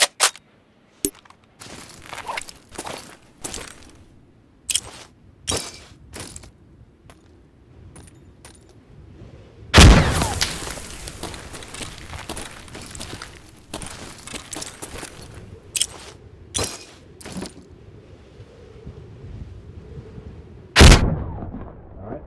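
Video game combat with frag grenades and gunfire: sharp, loud shots crack sporadically throughout, and two heavier blasts burst out, one near the middle and one near the end.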